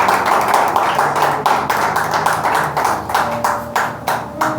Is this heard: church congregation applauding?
yes